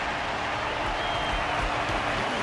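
Dense, steady applause from a large crowd in an arena match in Honkai: Star Rail, a continuous wash of clapping and cheering that holds at full loudness throughout the short stretch.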